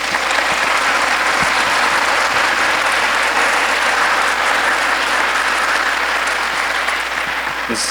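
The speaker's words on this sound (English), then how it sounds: "Let's give him another round of applause." A large audience at a Veterans Day celebration claps loudly and continuously for a speaker, with dense, even applause filling the whole stretch.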